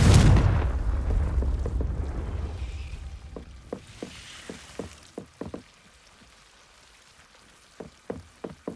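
Fire-spell blasts in the wizarding video game Hogwarts Legacy: a deep rumbling explosion opens and decays over a few seconds, followed by a run of short, sharp impact knocks in uneven bursts.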